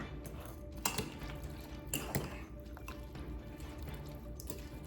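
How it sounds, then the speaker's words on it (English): Metal utensil clinks and scrapes against a crockpot while stirring chicken with salt, pepper and water, a few sharper knocks among steady stirring noise, close by with no talking. "Stir that up."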